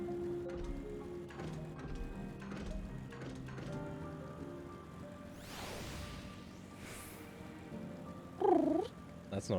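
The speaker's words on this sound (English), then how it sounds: "I can't make cat sounds." A cat purrs in the Final Fantasy XIV: Endwalker video game, a steady low purr running beneath game music and chimes, with a brief louder tonal sound near the end.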